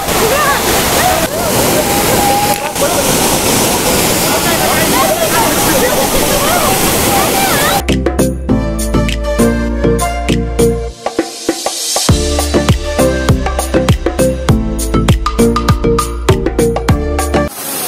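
Ramapuram waterfalls near Tirupati roar as a loud, steady rush of falling water, close and continuous for the first half before the sound shifts to broken, patchy water noise.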